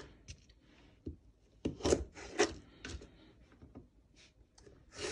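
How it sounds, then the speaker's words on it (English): Knife strokes slice a carrot into thin strips on a cutting board, giving soft, irregular cutting and tapping sounds with light rubbing noises, close and fairly quiet. "So we slice the thin strips of carrots so they will be cooked quickly"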